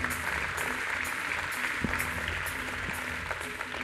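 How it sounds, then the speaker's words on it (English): A large audience at the Big Kansas City 2014 event applauds and cheers a speaker, a steady, dense wash of clapping that holds loud and even throughout with no talking over it. "it's so nice to have so many white people stand up and cheer for me"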